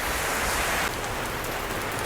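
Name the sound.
rain falling outdoors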